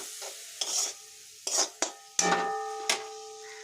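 Water goes into a pan of spices frying for a Bengali koi fish curry with cauliflower and potatoes, setting off several loud bursts of sizzling between short gaps, with a spoon scraping and stirring in the pan.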